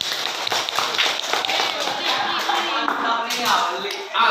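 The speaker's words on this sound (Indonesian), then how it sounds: "Tepuk tangan." Students in an Indonesian classroom break into clapping, a dense, sustained patter of many hands filling the room at close range, with voices mixed in underneath.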